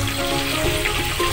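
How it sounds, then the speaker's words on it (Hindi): Half a teaspoon of oregano leaves sizzling in melted butter in a pan, a loud, steady close-up frying hiss. "बटर मेल्ट हो गया है, अब मैं इसमें half teaspoon oregano leaves add कर रही हूँ"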